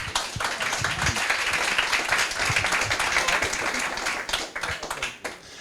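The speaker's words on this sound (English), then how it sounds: "please give them a warm welcome with a round of applause" Audience applause at a conference stage event in Hamburg, dense steady clapping that fills most of the stretch before trailing off near the end.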